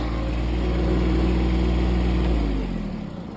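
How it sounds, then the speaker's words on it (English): A lawn tractor weighing about 1500 lb idles steadily close by with a low, even drone, then its note drops as the engine winds down near the end. "I'm going to put the tractor away here"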